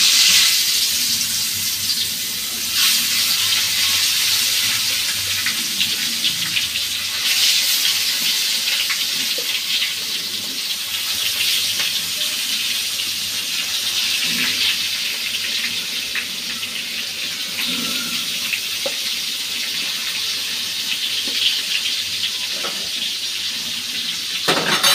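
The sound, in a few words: washing fish under running tap water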